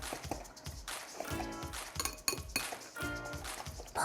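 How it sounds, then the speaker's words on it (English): Seasoning and minced parsley whisked together in a bowl for a lemon orzo salad, giving a quick run of close metallic clinks and taps against the bowl, with no talking. "And then we're just going to whisk this together."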